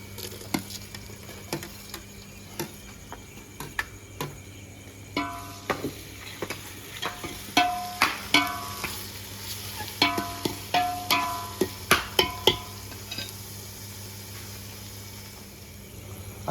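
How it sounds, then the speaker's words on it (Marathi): Onion and tomatoes frying in a pan over a wood-fired stove for a prawn masala, a soft background sizzle broken by repeated clicking spoon taps and scrapes that grow busier midway, close and moderately loud. "कांदा चांगला फ्राय झालेला आहे. आता आपण त्यात टोमॅटो टाकून घेऊया."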